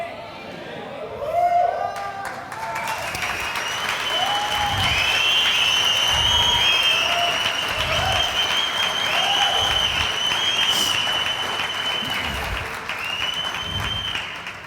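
Sustained applause and cheering from a church congregation during a worship service, dense clapping with whistles and shouts rising and holding, while a voice speaks at the start.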